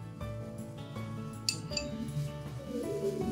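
Half an egg is beaten in a bowl with a utensil, giving quick, faint clinks and taps against the bowl under a soft musical background.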